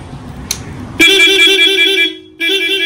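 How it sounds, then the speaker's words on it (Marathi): A loud, close custom-fitted vehicle horn blares in a sustained musical tone for about a second, cuts out briefly, then sounds again, with a short click beforehand. "हा हॉर्न बसवलंय भाईनी"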